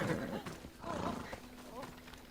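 A horse in Assassin's Creed Odyssey clip-clops and whinnies in short bursts close by, while someone talks over it.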